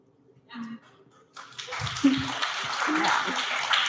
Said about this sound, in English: I feel very validated right now with all this applause